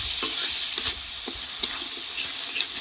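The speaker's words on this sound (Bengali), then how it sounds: "আমি ভালো করে কষাই নিচ্ছি" Turmeric, chili powder and salt are stirred and fried in hot oil, giving a steady close sizzle with scraping stirs of a spoon in the pan.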